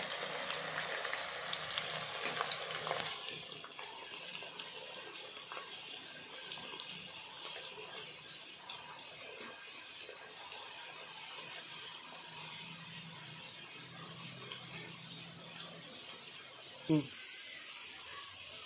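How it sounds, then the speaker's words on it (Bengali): A steady, fine hiss of chana dal frying in oil fills the scene for a long stretch, with faint clinks and a brief louder knock near the end. "এবার আমি ছোলার ডালগুলো ভেজে নিচ্ছি"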